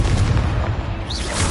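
Confringo fire spell explosions in Hogwarts Legacy: a continuous run of deep, booming blasts with a rushing fiery roar, loud and close throughout, and a bright whoosh near the end.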